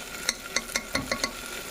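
Rice is added to chicken masala frying in a pan and stirred, making a quick run of about six rhythmic scraping strokes over a soft sizzle, close by.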